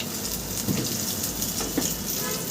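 Sugar hits hot oil for a red mutton curry and sizzles in a loud, continuous hiss with a couple of brief crackling pops, close and with no voices.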